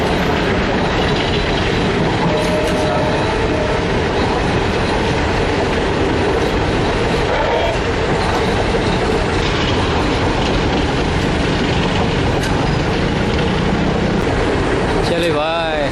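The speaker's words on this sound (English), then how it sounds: "here we are at a level crossing, watching a train pass by" Train passing a level crossing in Rajasthan, a loud continuous rumble and clatter of wheels on rails that persists throughout, with a brief squeal near the end.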